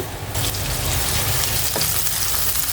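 Chopped onions sizzle in hot mustard oil in a pan, a dense, steady crackling hiss that sets in sharply after a quieter opening and stays loud and close throughout.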